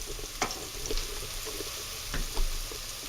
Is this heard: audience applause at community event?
no